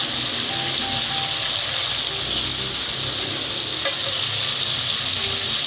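Green chillies hit hot oil for a dhaba-style chana dal fry, making a loud, dense, unbroken hiss that fills the scene from start to finish, with a faint clink partway through.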